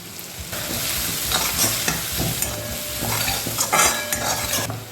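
A spoon stirs turmeric powder into a sizzling paste of green chili, garlic and ginger for a green peas tarka, with steady scraping strokes over a continuous fry, close and fairly loud.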